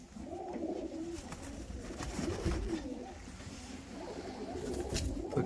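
Romanian tumbler pigeons of the Batoşani breed coo nearby in repeated low, throaty rolling calls that overlap one another against a faint background hum.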